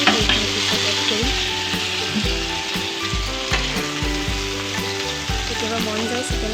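Onions and tomatoes frying in oil in a pan, a loud continuous sizzle with repeated rhythmic scraping and stirring strokes close by, and no talking.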